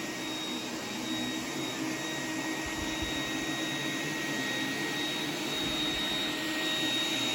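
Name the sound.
iRobot Roomba 980 robot vacuum cleaning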